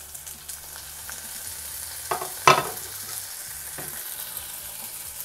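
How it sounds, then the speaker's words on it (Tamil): Tomatoes frying in a pan with onion and garlic for a fish curry, a steady soft sizzle running throughout with occasional stirring clatters, the loudest near the middle, no talking. "இப்போ தக்காளியும் ஒரு 2 நிமிஷம் நல்லா வதங்கட்டும்"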